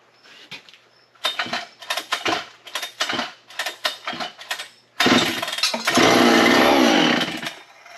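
An old yellow 55-65cc chainsaw is pull-started: a string of sharp, rhythmic cord pulls with sputtering attempts, then the engine catches and roars loudly and steadily before easing down at the end.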